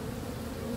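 A steady, low insect buzz drones on without a break, faint and continuous, like bees humming close by.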